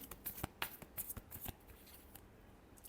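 Tarot cards are shuffled by hand, a quiet run of quick papery riffles and taps in short clustered bursts, then fading to near silence.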